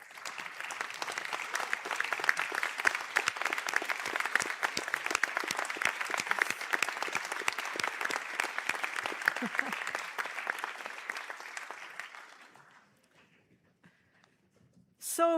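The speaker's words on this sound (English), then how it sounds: "give them a big boulabus, a big round of applause for all the supporters" Graduates at a Sligo conferring ceremony applaud their supporters: dense, steady clapping from a large crowd for about twelve seconds, then it fades into near silence.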